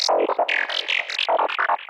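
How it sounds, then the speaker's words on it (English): An FM-style synth lead from the Serum preset Looney Bubbles plays a quick run of short, bright, bubbly notes that jump between registers. The line is clear and forward, with no voice. "a main lead, which is kind of FM-ish, and for that I went with the Looney Bubbles preset"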